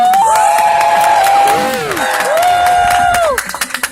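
Crowd screams and cheers at a Renaissance fair jousting tournament of horses, a loud, sustained roar of many voices with rising shrieks and whoops, tapering into scattered claps and shouts at the end.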